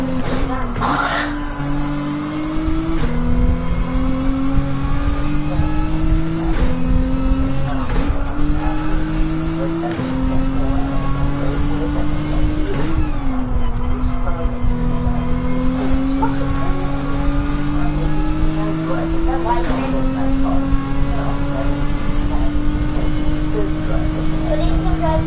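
A racing car in a driving video game revs hard through repeated gear shifts, each pull rising in pitch then dropping, loud and close, with someone talking over it.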